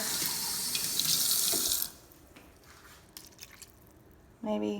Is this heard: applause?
no